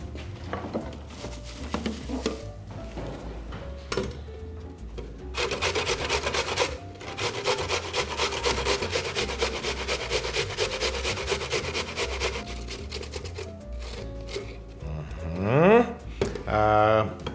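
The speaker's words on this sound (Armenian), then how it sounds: "Սիրելի ամանի մեջ քերում ենք գլուխ սոխ։" A whole onion is grated into a bowl by hand, giving steady rhythmic rasping strokes that run close and fairly loud for several seconds, with a person talking before and between the bursts.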